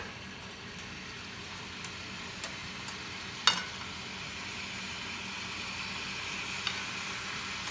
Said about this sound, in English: I'm actually stirring it like this so that I can get all of the curry chicken to be all the same color